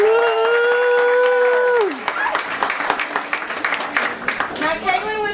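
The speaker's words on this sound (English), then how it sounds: "Let's give her a round of applause." Diners at Joe's Crab Shack applaud and cheer for a girl turning ten. A single voice speaks first, then a burst of clapping from the restaurant crowd carries on for several seconds.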